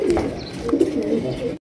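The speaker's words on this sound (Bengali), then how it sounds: "দেশীয় একজোড়া বোম্বাই কবুতর দেখতে পাচ্ছেন মাশাআল্লাহ" Pigeons at a pigeon farm, including a large Bombay pair, give repeated throaty coos close by, several birds overlapping in a continuous murmuring chorus with a few faint chirps.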